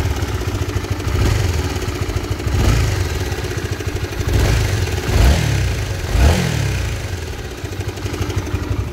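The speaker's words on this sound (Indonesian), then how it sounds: "itu bunyi ngukluk dari tensioner yang sudah kena pada motor Honda CB150 Supra" A Honda CB150R motorcycle engine idles and is revved in slow swells, with a steady clattering knock from a worn cam chain tensioner running through it, loud and close.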